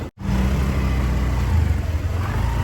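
Vehicle engine catching and running steadily at a loud, close rumble, with a slight rise in revs, alone without talk.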